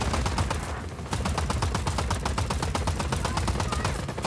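Rapid SMG fire in the action game Just Cause, a steady fast string of sharp shots with a brief pause near the start, loud and close, with some talking over it.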